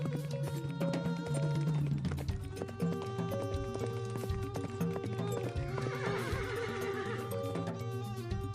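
Horse whinnying and neighing with steady clip-clop of hooves as a rider sets off on horseback toward Agra, loud and continuous over layered music-like tones throughout.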